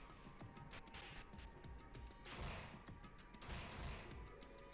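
Someone bangs from inside a locker in the video game Danganronpa Another: repeated muffled thuds and knocks, with two heavier bursts of pounding over a steady low background hum.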